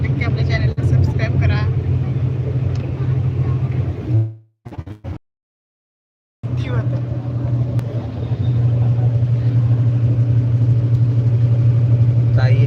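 A car engine hums steadily on the road, a deep rumbling drone with cabin noise, briefly dropping out to silence midway before resuming just as loud.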